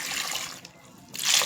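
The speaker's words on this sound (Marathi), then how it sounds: "बटाटे उकडण्यासाठी थोडं त्यात पाणी टाकूया आपण." Tap water runs in a steady splashing stream into a pot of washed potatoes that will be boiled for aloo paratha. The flow pauses briefly, then resumes louder and closer.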